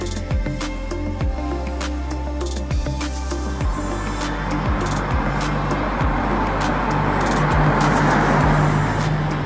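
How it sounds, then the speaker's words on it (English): A 2007 Bentley Continental GTC engine starts and revs up. The rev cycles repeat in an uneven rhythm. The engine note is loud and close, with a dense, rising broadband roar in the second half and no talking. "So we're gonna start it up. We're gonna do a few revs"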